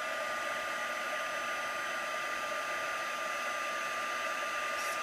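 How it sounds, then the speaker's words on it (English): A heat gun runs steadily to melt embossing powder on vellum, a constant loud blowing whir with no pauses and no voices. "you just move your heat gun along until it all has changed color"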